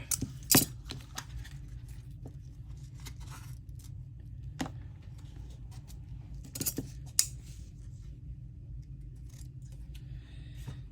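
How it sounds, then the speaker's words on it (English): Sharp fabric scissors cut through fabric while sewing a Christmas project, with a few crisp, close snips and clicks spaced irregularly over a quiet, low hum. "take out the fabric scissors"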